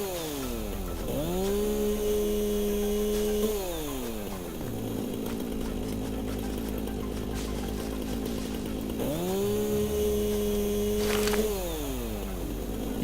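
A chainsaw in the game Satisfactory revs up loud and close, holding a steady whine for a couple of seconds, idles with a rough rattle, then revs again in a second long burst, with no talking.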